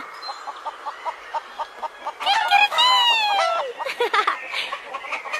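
A rooster crows on a farm, one long loud cock-a-doodle-doo rising and falling in the middle, with rhythmic clucking pulses from chickens before and after.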